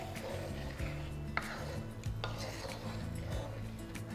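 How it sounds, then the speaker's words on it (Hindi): Utensils scrape and knock against a pan as boiled chickpeas are stirred, with several sharp clinks over a steady cooking hiss. "इन्हें स्टर कर दीजिए"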